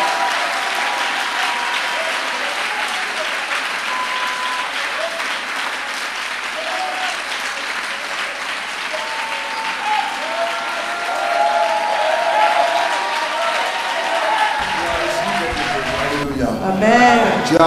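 A church congregation at a Pentecost service keeps up a sustained, loud wash of applause and acclamation, a dense continuous roar of clapping and cheering that swells near the end, with voices mixed in.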